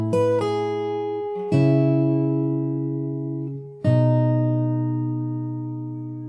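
Fingerstyle acoustic guitar plays the melody of a song on top of changing chords, three ringing strums each left to sustain and decay, close and unaccompanied.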